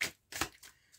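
Tarot cards are handled and laid down in a few soft, quick swishes and taps, close and quiet.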